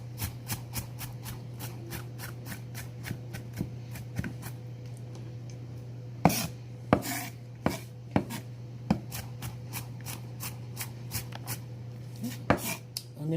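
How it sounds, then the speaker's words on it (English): A knife chops onion on a cutting board for cornbread dressing, producing a rapid, regular run of crisp taps with a few louder heavier strikes mixed in, close and clear over a low steady hum. "we will have to run the knife through this because we don't want big pieces of anything in our dressing"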